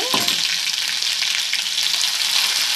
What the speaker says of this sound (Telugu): అది కూడా పచ్చివాసన పోయేంత వరకు కూడా బాగా వేపేసుకోవాలి అల్లం పేస్ట్ అంతా కూడా